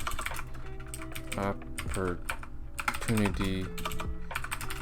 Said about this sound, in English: so I'm just gonna type something real quick